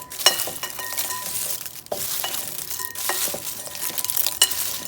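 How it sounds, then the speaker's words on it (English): Grated cheese is tossed and stirred into a sautéed zucchini and garlic mixture in a kitchen, giving a steady sizzle-like rustle with light clinks of utensils against the pan, close and continuous. "I'm going to toss the cheese around it a little bit"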